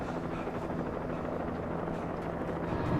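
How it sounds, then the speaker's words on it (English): A helicopter in the video game Alan Wake drones steadily with a thick rotor chop, moderately close and continuous throughout. "The damn helicopter."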